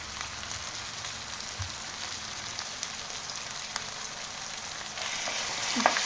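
Ground tomato with ginger-garlic paste sautés in a pan for a spinach paneer gravy, a dense even frying hiss with scattered pops and a brief scrape of stirring near the end.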